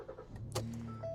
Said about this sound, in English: Okay, the car is on now.